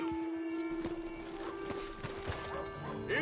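Horse hooves clip-clopping in the video game Red Dead Redemption 2, a series of irregular hoof thuds over a steady tonal hum, moderately quiet, with a faint snort or whinny toward the end.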